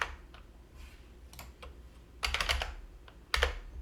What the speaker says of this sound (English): we're going to type in nano